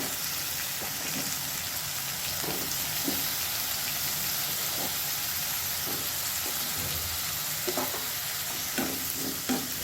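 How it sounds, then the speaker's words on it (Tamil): Finely chopped brinjal sautéing in a pan for brinjal rice, a steady bright hiss of frying with occasional soft stirring taps, fairly loud and unbroken, no one speaking. "கத்திரிக்காவை நல்லா வதக்கிட்டு"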